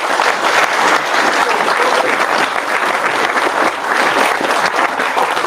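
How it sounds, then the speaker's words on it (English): Loud, sustained applause from a large crowd at an apprenticeship graduation ceremony, dense clapping filling the room steadily without a break. "so let's give them a round of applause"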